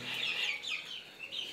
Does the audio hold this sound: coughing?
no